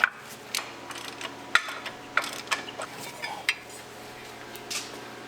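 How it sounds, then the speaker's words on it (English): Close metallic clanks and clicks, like a wrench breaking loose 21 mm caliper bracket nuts on an LBZ Duramax, come in a sparse, irregular series of sharp taps over a low background hum. "we're going to go ahead and break loose the 21 millimeter nuts on the back side for the caliper bracket"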